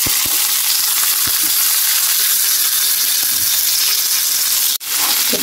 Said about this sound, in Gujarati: તેલ ગરમ થઈ ગયું છે એમાં આપણે નાખશું આખું જીરું એડ કરીશું બે ચમચી જેટલું બે તમાલપત્ર બે લાલ સૂકા મરચા અને આપણું આ વેજીટેબલ છે એ એડ કરી દઈશું